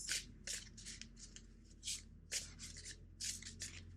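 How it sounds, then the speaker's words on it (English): Tarot cards being shuffled by hand during a reading: quiet, repeated papery riffling bursts in an uneven rhythm over about four seconds, with no talking. "Two more shuffles."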